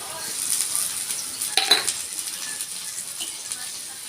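Potatoes tipped into a hot pan for chira pulao, a bright, airy sizzle throughout with a sharp burst of clattering and crackling as they land, then settling into steady frying with light metallic clinks.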